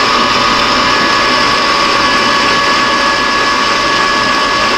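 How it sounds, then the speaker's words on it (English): A small lathe bores out steel stock to make a spanner wrench for keyless chucks, producing a loud, steady machining whine with a constant tonal hum and no break or talking. "We're going to have to bore over an inch, pretty close to an inch out of this."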